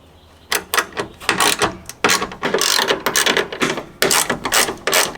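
Rapid ratchet clicks from a socket wrench backing out 10mm tail light bolts on a Toyota Tacoma, several close, loud bursts of fast clicking separated by short pauses, with no talk.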